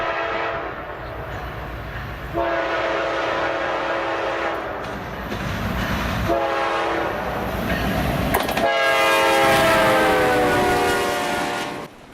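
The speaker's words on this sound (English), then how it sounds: "we are just in time for westbound Hotshot Intermodal Train 205, a morning staple on the Lake Erie District" A Norfolk Southern westbound hotshot intermodal freight train rumbles past a crossing on the Lake Erie District, its horn sounding in several long, loud blasts over the continuous roar of rolling cars.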